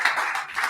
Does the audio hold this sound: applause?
yes